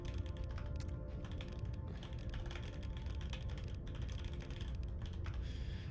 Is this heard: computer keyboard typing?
yes